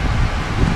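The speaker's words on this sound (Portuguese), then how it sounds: "Ó o vento." Wind blows outdoors as a loud, steady rushing gust that buffets the microphone, with a rustling texture that holds for under a second and has no voices over it.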